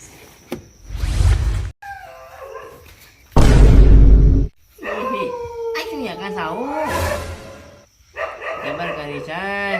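A dog barks sharply and howls in long, wavering cries, loud and close, with bursts of noise between the calls.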